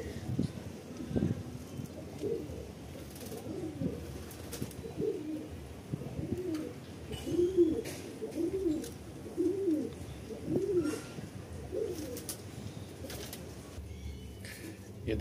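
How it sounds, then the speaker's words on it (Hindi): Pigeons perched nearby coo softly in a run of repeated low, throaty calls, moderately close, over a quiet background with light rustling. "ये देखिए दोस्तों, कुछ कबूतर हमारे यहाँ पर हैं, ये बैठे हुए हैं।"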